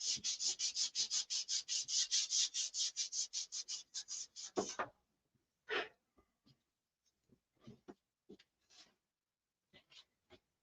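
Rapid, steady hand-sanding strokes rasp across wood for about five seconds, then give way to a few scattered scrapes and light taps.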